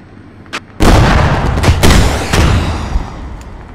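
A tank gun in a video game fires one loud, near blast that rolls into a long booming rumble. A fainter shot comes just before it, and later cracks trail off. No one talks.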